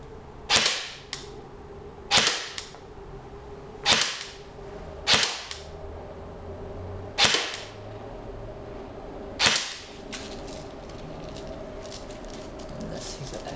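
A JG M4 S-System airsoft gun runs on an 8.4 V 3300 mAh battery and fires 0.2 gram BBs in six sharp, separate single shots. The shots are spaced irregularly, with quiet gaps between them and no talking.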